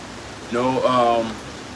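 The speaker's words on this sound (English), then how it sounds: "it's just crazy rains, man" Heavy rain falling in Queensland, a steady close hiss that runs the whole time, with a voice briefly speaking over it in the middle.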